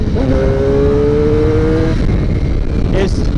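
A Suzuki GSX-R750 motorcycle engine revs hard under throttle, a loud close growl with a rising tone that falls away after about two seconds, then a brief second rev.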